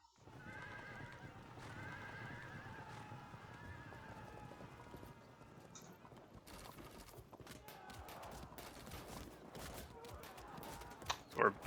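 Cavalry horses in a Field of Glory II battle, with clip-clop hooves and repeated whinnying over a steady din of ancient combat, punctuated by sharper impacts near the end.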